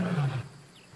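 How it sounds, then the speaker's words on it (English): A lion gives a single deep roar in the wild, faint and distant, fading out within a moment. "off in the distance, he hears a familiar roar."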